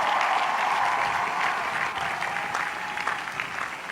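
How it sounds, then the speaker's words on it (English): Sustained audience applause at a commencement-style gathering for parents and families, a dense, steady wash of many hands clapping that softens slightly toward the end, with no talk over it. "Let's give the parents and the families a big hand of applause."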